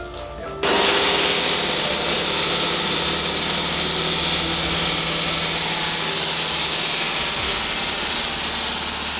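A loud, steady grinding whine of a stonemason's power saw biting into Volvic volcanic stone, starting abruptly and running continuously with a harsh, hissing edge.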